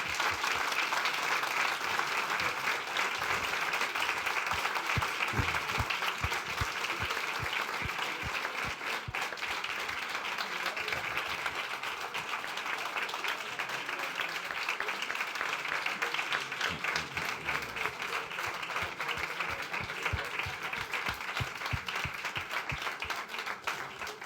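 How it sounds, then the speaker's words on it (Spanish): Sustained audience applause for Eduardo Strauch at a talk on surviving in the Andes, a dense, even wash of many hands clapping that holds steady for the whole stretch without letting up. "Les pido un aplauso, un gran aplauso para Eduardo."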